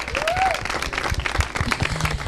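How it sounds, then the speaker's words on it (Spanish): Studio audience applause on a Mexican TV talk show: a short burst of clapping from a crowd, moderately loud with some background voices. "un aplauso para ustedes"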